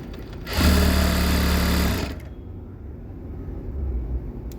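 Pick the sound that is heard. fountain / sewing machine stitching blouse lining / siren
sewing machine stitching blouse lining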